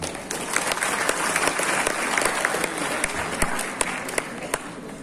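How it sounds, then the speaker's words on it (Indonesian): Audience applause at a university graduation ceremony for new graduates, a sustained crowd clapping with scattered sharp individual claps, moderately loud and steady for the whole span. "Mohon tepuk tangan."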